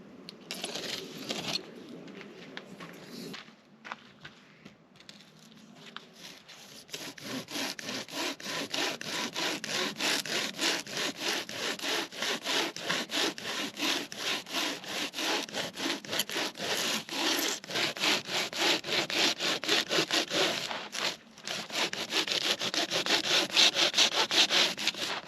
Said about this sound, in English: I'm going to move over to the Japanese saw in a minute, and that's where the fun noises come in.